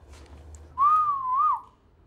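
A single person whistles a short sliding tune, clear and close, lasting under a second, over a quiet low hum.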